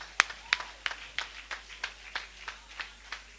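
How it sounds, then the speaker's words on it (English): About ten separate claps from a small audience at a talk, crisp and evenly spaced, thinning out in the room with no other sound between them. "So please clap for yourself."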